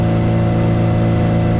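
A boat's outboard motor runs steadily and loudly up close on a river trip downstream, its even engine drone with strong low harmonics holding constant throughout, with no voices.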